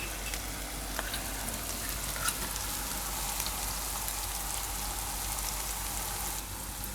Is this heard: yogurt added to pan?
yes